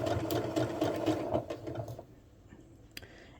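A sewing machine stitches sweater fabric with a steady, close mechanical rattle of rapid needle strokes for about two seconds, then slows and stops, leaving a few quiet clicks.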